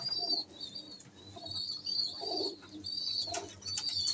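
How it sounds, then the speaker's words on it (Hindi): Pigeons in a loft of paired birds coo softly and repeatedly, with faint chirps and light wing movement in the background. "ये सारी यानी कि कबूतरियाँ हैं"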